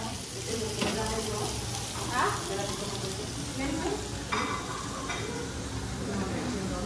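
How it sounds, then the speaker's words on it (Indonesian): Rendang being reheated in a pan on a borrowed camping-style stove, a steady sizzle and frying crackle with occasional stirring scrapes, continuous and close throughout. "kita panasin dulu rendangnya tuh"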